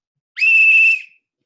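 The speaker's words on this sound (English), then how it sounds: "we blow the whistle" A single sustained whistle blast, loud and close, about two-thirds of a second long and alone, blown as a warning that police are nearby at a homeless tent encampment.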